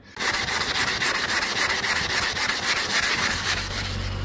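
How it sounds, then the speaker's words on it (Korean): 180-grit sandpaper scrubs hard and steadily against a car's plastic headlight lens, making a loud, continuous close-up rasp with rapid back-and-forth strokes and no talk. "지금 180방으로 운전석 쪽에 헤드라이트 지금 또 빡빡 문지르고 있는데"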